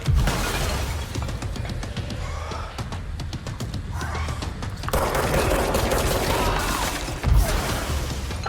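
Rapid gunfire bursts in the video game Control, dense crackling volleys running continuously with a louder stretch in the second half, close and busy, with no voices over it.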